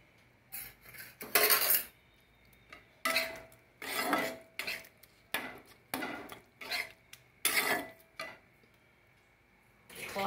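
Egg bhujia being stirred into masoor dal in a pan, with a run of metal spoon scrapes and clinks against the pan in uneven bursts separated by short pauses, close and fairly clear.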